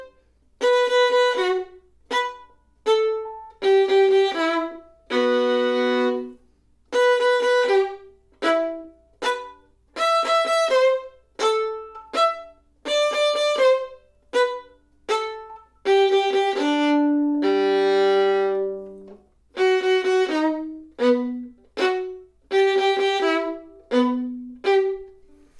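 Violin collé wrist bow strokes played forte: short, crisp, separated notes in repeated groups with brief gaps, mixed with a few longer sustained tones, clear and close with no talking.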